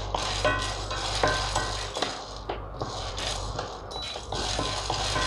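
Black chickpeas dry-roasting in a pan for a homemade health-mix flour, stirred steadily so the hard seeds rattle and scrape against the metal in continuous clattering bursts, fairly close and with no talking.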